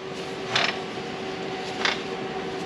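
A wrench is worked on a bolt of a CAT 3126 diesel engine, giving two short creaking ratchet strains about a second apart over a steady background hum.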